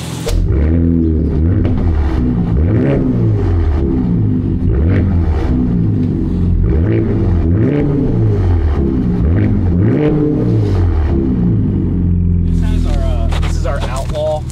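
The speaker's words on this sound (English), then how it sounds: "So it is the loudest exhaust that we offer." A big-block muscle car with a Flowmaster exhaust idles and revs repeatedly with a deep, loud, rumbling exhaust, each rev swelling and falling; brief voices near the end.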